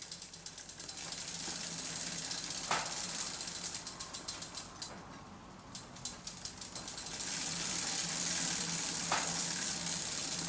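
A lubed bicycle chain spins on the drivetrain after cleaning, giving a steady ratcheting freewheel clicking that runs throughout, briefly slows into separate ticks, then speeds up again.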